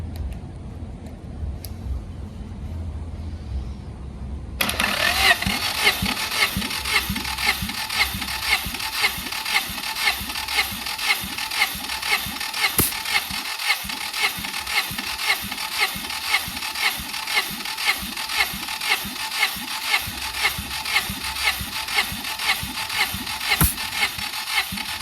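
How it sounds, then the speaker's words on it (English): A Honda F23 engine in a G23 build cranks on a hot, weakening starter, a rapid rhythmic churning that starts abruptly after a short quiet stretch and continues steadily and loudly to the end. "The starter's getting weaker though because it's getting hotter."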